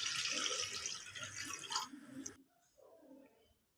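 Water splashes steadily into a kadhai for fish kofta curry, a close, bright gush for about two seconds before it stops, leaving quiet stirring and faint clinks.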